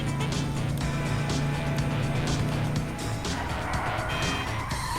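Car in GTA 5 driving fast with tires squealing and skidding, a steady loud engine drone with repeated screeches throughout, no talk.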